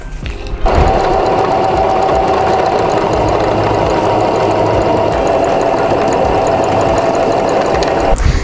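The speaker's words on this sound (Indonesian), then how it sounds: "Selanjutnya kita akan menjahit bagian dari handle dan ring yang sudah kita tempelkan seperti ini." A sewing machine stitches a handle and D-ring onto a puffy handbag, running in one continuous, close, loud mechanical whir for about eight seconds before stopping.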